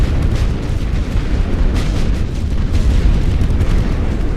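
Artillery shells bursting in a World War I video game, a dense, loud rumble of overlapping booms and blasts rolling on continuously without any voices.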